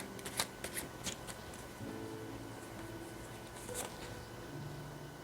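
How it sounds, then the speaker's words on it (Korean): Divination cards shuffled and drawn, with a quick flurry of crisp riffling flicks at the start, then a softer steady shuffling rustle and a few light card snaps, close and quiet. "다음 여러분에게 필요한 주역 조언점 카드 2장 뽑아 보겠습니다"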